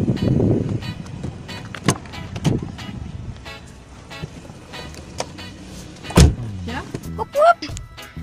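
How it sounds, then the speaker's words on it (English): Inside a car heading out on a drive, an electric power window motor gives a short rising whir near the end, over low cabin rumble, a few thumps and muffled voices. "right now I'm just going to go somewhere in my car"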